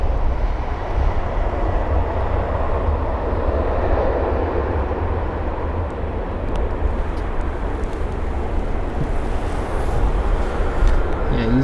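A jet airliner rumbles steadily through a landing at London Heathrow, a broad continuous roar that stays loud and even throughout with no clear rise or fade.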